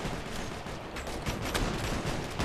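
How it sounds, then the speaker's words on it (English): A dense, unbroken wash of battlefield gunfire from Operation Flashpoint: Red River, many weapons firing at once in a loud, continuous roar with no pauses. "We're under fire"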